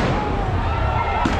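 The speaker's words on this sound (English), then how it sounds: "Now they shoot more fireworks." Fireworks go off in a street during the LA riots, heard as a dense, loud, continuous crackle with low booms throughout, close by.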